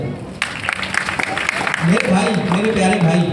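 A classroom of students gives a short round of applause, which fades as a voice starts talking over it.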